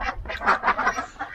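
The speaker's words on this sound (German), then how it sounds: "Hier im Entenparadies ist momentan das große Entsetzen. Wird geschnattert und geschimpft." Ducks quack in a loud, overlapping chorus of harsh, nasal calls, several birds close by with no pauses.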